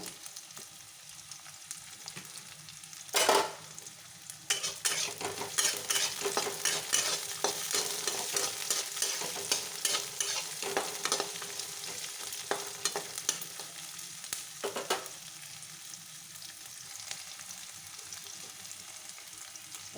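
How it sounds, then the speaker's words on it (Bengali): Garlic and ginger fry in a pan with a constant, busy sizzle and crackle, broken by occasional louder clatters of stirring. No voices are heard. "এটা দিয়ে দিলাম এটাকে একটু ভেজে নেব"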